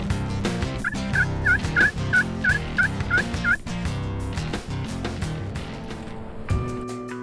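Osceola wild turkey gobbler in a swamp, a loud close gobble followed by rapid rattling calls, heard over steady background noise with no talk.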